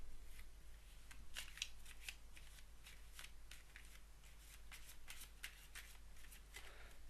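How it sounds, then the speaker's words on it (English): Playing cards shuffle in a run of quick, crisp riffles and flutters, repeated several times at close range against a quiet background. "and then we can just shuffle the cards."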